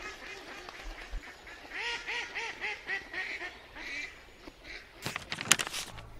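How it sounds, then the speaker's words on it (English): A flock of ducks quacks in a rapid, repeated series of nasal calls at moderate distance, followed by a few louder, sharper splashes or flaps near the end. "Then Victoria opened the window and threw her sandwich to the ducks."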